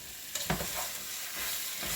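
Lamb pieces sizzle and fry steadily in a hot pan as they brown for a stew, with a few soft stirring scrapes near the start and no talk.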